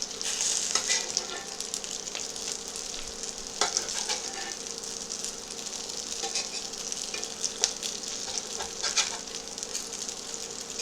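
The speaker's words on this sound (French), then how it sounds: "Donc je retourne les pierogies pour faire cuire le deuxième côté." Pierogi frying in a cast iron pan while being flipped to cook the second side, with a steady close sizzle and crackle and occasional light clicks.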